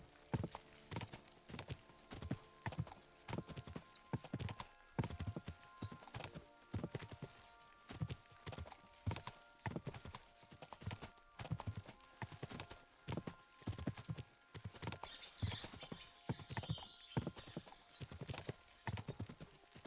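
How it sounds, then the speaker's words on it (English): Horse hooves clopping on the ground in the Kingdom Come Deliverance 2 video game, a steady, even rhythmic clip-clop throughout, faint and alone with no talk. "it's almost soothing just to listening to the horse's hooves ride on the ground"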